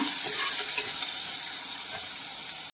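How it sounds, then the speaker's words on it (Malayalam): Bright, dense sizzle of crushed shallots and cinnamon leaves frying in a hot pan, loud and steady for a few seconds before cutting off abruptly. "ഇനി നമുക്കിത് ഒന്ന് ഇളക്കി കൊടുക്കാം"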